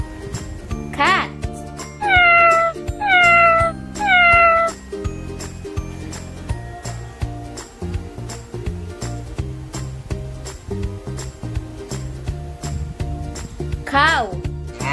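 A cat meows several times in short, clear, close calls, with a pause and one more meow near the end, set over a light background music track with a tinkling rhythm.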